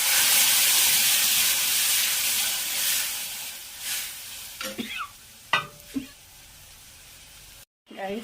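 Prawns frying in a hot pan, with a loud continuous sizzle and hiss that gradually eases. Brief stirring knocks and scrapes come near the end, and a short silent gap interrupts it.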